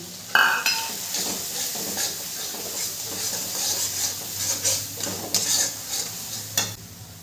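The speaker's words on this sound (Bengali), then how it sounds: "গরম জলটা দিয়েও মশলাটাকে আমি ভালো করে কষিয়ে নেব" Masala spice paste cooking in a pan after hot water is added, with continuous soft sizzling and hissing under occasional stirring scrapes and a few spoon taps, close and fairly quiet.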